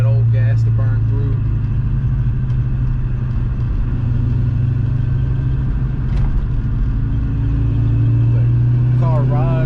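A 1996 Ford Mustang GT running on the road, its engine giving a steady low rumble with road noise beneath, close and loud throughout, while someone talks over it.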